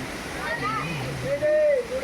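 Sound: waterfall flowing over temple deity

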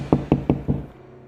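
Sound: knocking on a door

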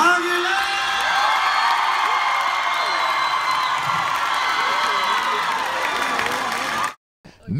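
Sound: audience applauding and cheering

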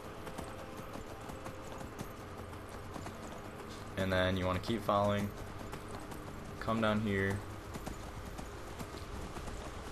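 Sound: horse Shadowmere hooves clip-clopping in Skyrim video game

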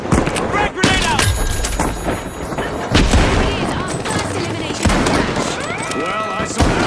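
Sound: frag grenade explosion in the video game THE FINALS

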